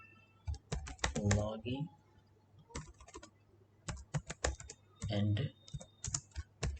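Code is typed on a computer keyboard in quick, close bursts of clacking keys, with someone speaking briefly between and over the typing.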